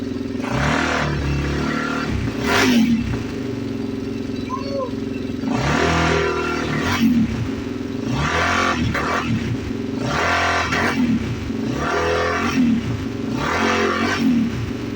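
A 440 big-bore dirt bike engine, freshly rebuilt, idles with a rough, loud putter set slightly too high and revs up in repeated bursts every couple of seconds, close by.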